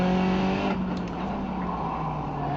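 A race car in the iRacing sim laps the Nürburgring Gesamtstrecke, its engine holding a steady high-pitched whine with harmonic tones that shift slightly as speed changes, loud and continuous with no voices.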